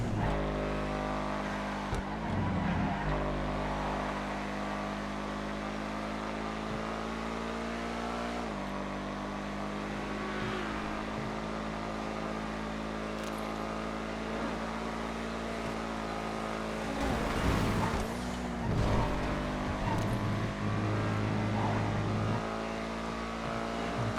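Engine roar from race cars in a FiveM street race in GTA, a Schlagen GT among them, with steady harmonic revving that swells near the finish in a close drag to the line, loud and continuous.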